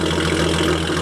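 A rat rod car engine idles steadily just after starting, a loud, continuous low rumble with even throb and no talking.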